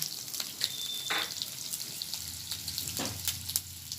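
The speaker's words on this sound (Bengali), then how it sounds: "तेल गरम हो गेছে, পেঁয়াজ কুচো দিয়ে দিচ্ছি।" Chopped onions sizzling in hot oil for chaumin, a soft crackling fry with a few louder spits and stirring scrapes, fairly quiet and without speech.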